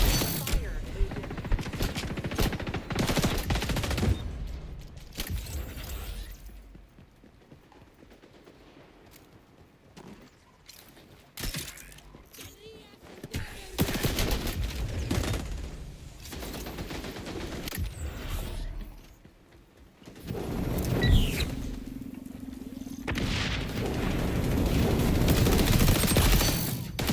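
An MP5A2 submachine gun in XDefiant fires in repeated bursts, with rapid close gunfire interspersed with mechanical clicks and quieter stretches, building to a dense, sustained barrage near the end.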